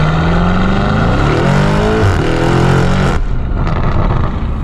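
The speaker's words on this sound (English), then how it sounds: "take you out in an Urus Esteso with a Novitec exhaust system and see just how loud and rowdy we can be" A Lamborghini Urus SUV with a loud Novitec aftermarket exhaust revs hard and accelerates in a city, with a loud, rumbling exhaust roar, rising in pitch before dropping back into a deep burble.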